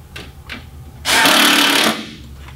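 Drywall screw gun spinning at high RPM to drive a screw into vinyl siding trim, one loud steady whirring burst of just under a second between quieter handling noises.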